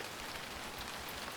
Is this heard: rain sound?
yes